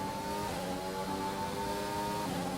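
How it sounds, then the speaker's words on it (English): Engine of an F1 car in the F1 2021 racing game, a steady high revving whine with a faint turbo whistle layered on top, continuous and up close with no talking. "In the 2021 game, I feel like you hear a little bit more of the whistle of the turbo compared to 2020."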